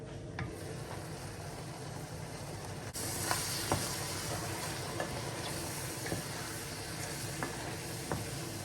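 Steady sizzling and bubbling from a pan of saucy chicken liver, a continuous hiss with occasional small pops, close and moderately loud, no voices.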